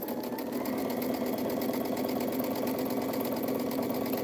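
A sewing machine stitches quilt squares in a steady, fast, even whir with rhythmic needle clatter, running continuously and close by with no talk.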